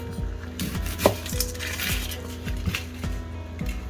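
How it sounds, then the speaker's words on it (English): A knife chops finely through a small onion on a cutting board, giving a steady run of close, crisp taps roughly every third of a second with one sharper knock partway through. "Next we've got a small onion and we're going to finely slice them up"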